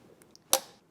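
A single sharp crack rings out as a frozen bolt on an engine thermostat housing breaks loose under a wrench, close and brief, with faint small clicks just before it.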